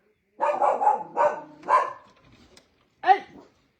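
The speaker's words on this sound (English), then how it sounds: "I have to go yell at the dog." A dog barks outdoors in several loud, close bursts, a quick cluster of barks at first and then one more after a short pause.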